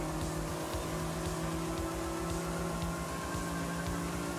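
Honda race car engine in Forza Horizon 5, a steady loud drone held at constant revs with a pulsing low rumble, alone throughout.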